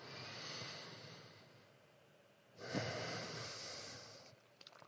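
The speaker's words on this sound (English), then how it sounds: "Take another nice big deep breath." A single slow, deep breath drawn in and let out during an EFT tapping exercise, heard close and soft with a faint hiss of air and no speech.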